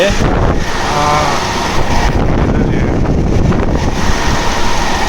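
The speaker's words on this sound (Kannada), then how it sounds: "ಕೋಲ್ಡ್ ಸ್ಟೋರೇಜ್ ಓಪನ್ ಆಯಿತು ಏನು ತಣ್ಣಗೆ ಹೊಡಿತಿದೆ ಅಂದರೆ ಗಾಳಿ" Loud, steady rushing of cold air blowing inside a cold storage room full of potatoes, a constant broadband hiss close to the microphone.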